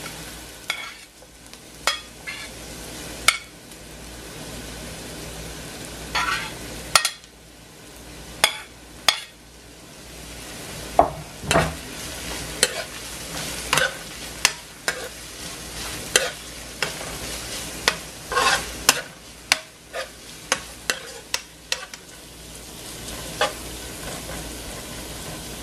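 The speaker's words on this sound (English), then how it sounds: "I'm gonna start to saute the vegetables." Onion, peppers and garlic sautéing in a pan, a continuous close sizzle punctuated by frequent sharp clacks and scrapes of stirring.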